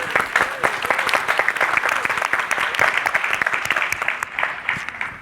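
Conference audience claps to welcome a sustainability manager, a steady, dense round of applause that holds for several seconds before tapering slightly at the end, with no speech over it.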